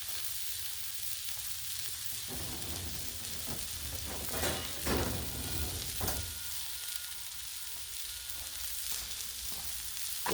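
Pork loin sizzles steadily on a Blackstone griddle, a continuous close frying hiss with a few brief scraping stirs, no voices.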